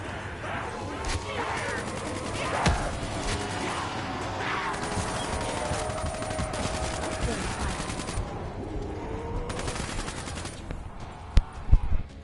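Sustained automatic AK rifle fire in a video game match, dense rattling bursts running almost continuously with a few sharper cracks near the end, mixed under game noise and a voice talking.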